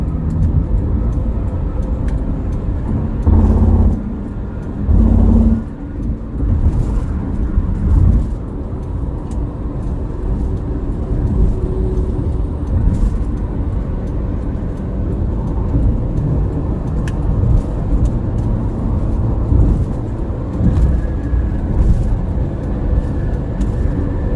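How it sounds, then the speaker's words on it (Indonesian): Steady traffic rumbles along the Semarang–Batang toll road, with heavy cargo trucks passing among lighter vehicles in a continuous low roar. A few louder thumps and swells rise from closer vehicles, and no one speaks. "Arus kendaraan cukup ramai, banyak kendaraan berat sebagai pengangkut barang maupun juga kargo maupun yang lain"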